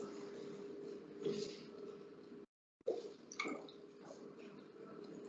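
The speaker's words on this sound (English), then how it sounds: "I'm just going to pour off a little bit to save for my cornflour mixture" Milk is poured from one jug into another small jug in a kitchen, a faint, soft liquid trickle and splash with a brief pause in the middle.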